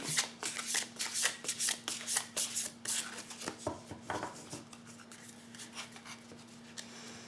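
Tarot-style oracle cards being shuffled and drawn for a reading, a run of crisp riffling flicks and slides, close and steady, then softer handling as a card is pulled, with no talking.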